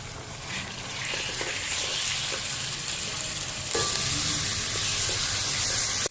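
Minced meat (keema) fries in a hot pan for keema lobia, a steady close sizzle with scraping stir sounds throughout and a brief louder burst of hiss partway through.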